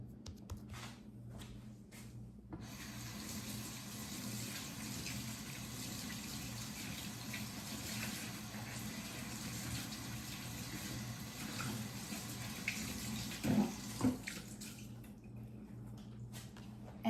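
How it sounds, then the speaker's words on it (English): Tap water runs at a kitchen sink while hands are rinsed, a soft steady stream with faint splashing and a couple of brief louder bumps near the end. "I'm going to rinse my hands."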